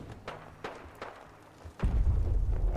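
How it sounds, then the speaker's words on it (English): Explosions erupt in the video game Fallout, a few sharp distant thuds at first, then a loud sustained rumbling boom rolling on to the end. "more explosions just exploding"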